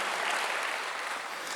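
Brief burst of steady applause from a church congregation during a Sunday sermon, many hands clapping in a dense, even wash at moderate volume.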